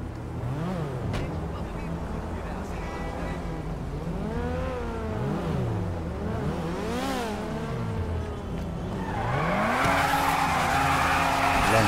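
Car tires squeal and skid in GTA V, a long wavering screech over a steady engine drone that swells into revving acceleration near the end, with voices talking faintly underneath.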